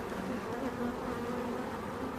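Honeybees hum steadily from an open WBC hive under inspection, a close, continuous buzz with a droning tone and no speech.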